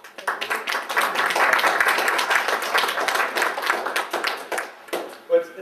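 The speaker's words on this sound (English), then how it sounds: "So everybody, let's give a big round of applause for Joe Zerbandit." An audience at a talk on application security gives a round of applause after the speaker's introduction, a dense burst of clapping that swells, holds, then thins into scattered claps before fading out.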